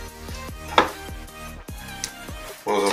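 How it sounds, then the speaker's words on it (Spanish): A knife chops rhythmically through a pineapple on a cutting board, about eight crisp cuts in steady succession, close and clear. "procedemos a cortar nuestra piña"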